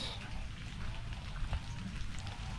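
Steady rain falling on a calamansi farm, a dense continuous patter close by that swells slightly louder midway, with no talking.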